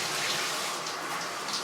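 Shower water runs in a steady, even hiss, fairly faint and continuous, with no voices.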